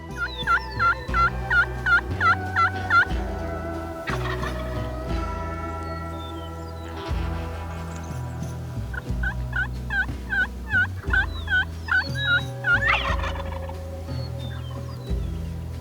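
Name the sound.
wild turkeys gobbling, young jakes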